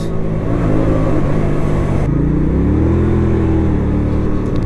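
A Hyosung GV125 Aquila 125cc cruiser motorcycle filtering past cars on a UK road, its loud steady engine drone shifting pitch midway as it pulls by with strong wind rumble up close.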